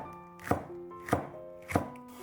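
A knife chops a deseeded green pepper into thin strips on a board, three sharp, evenly spaced cuts ringing out clearly with nothing else heard.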